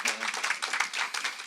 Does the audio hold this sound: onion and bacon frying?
no